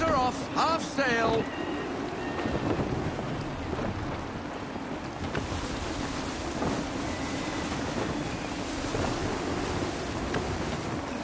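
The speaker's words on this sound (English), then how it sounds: "Gusty winds can be difficult to manage." Gusty wind and rolling ocean waves surge around a sailing ship in Assassin's Creed 3, a loud, steady roar of wind and surf with voices calling out over it near the start.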